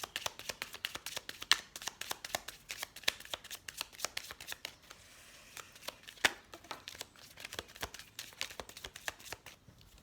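Tarot cards shuffled by hand in quick riffling bursts, crisp and close, with a short lull near the middle before the brisk shuffling resumes; no voices.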